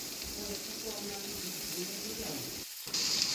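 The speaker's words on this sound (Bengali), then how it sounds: "সবজিগুলো একটু ভালো করে ভাজতে হবে।" Carrots, beans and other vegetables sizzle steadily in a pan for a vegetarian dalia khichuri, a soft continuous frying hiss with a brief pause near the end.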